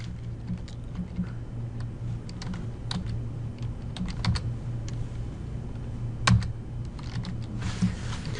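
Clattering keystrokes on a worn computer keyboard at a programming session, irregular bursts of close taps and clicks over a low steady hum for several seconds, with one sharper knock near the end.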